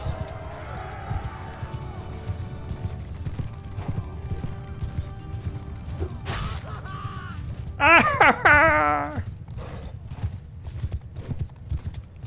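Horse hooves clip-clopping in the medieval combat game Mount & Blade II Bannerlord, a steady galloping rhythm throughout, broken midway by a loud neigh.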